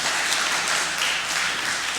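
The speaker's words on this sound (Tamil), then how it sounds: "உங்களுடைய பலத்த கைத்தட்டலே சொல்லுது." Loud, thick applause from a large audience at a Tamil pattimandram debate, a steady uninterrupted roar of clapping hands filling the room, no speech.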